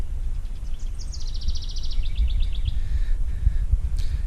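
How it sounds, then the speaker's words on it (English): Birds chirping at the remnants of historic Fort St. Joseph in Niles, Michigan, a quick trilled series of bright notes followed by a few sparser calls over low wind rumble outdoors. "You can hear the birds chirping."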